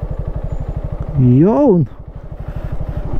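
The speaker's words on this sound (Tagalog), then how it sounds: "Kaya hirap na hirap yung motor natin." A motorcycle engine strains hard as it climbs a steep road, its low, steady pulsing rumble running throughout and rising in pitch briefly, with a voice calling out over it.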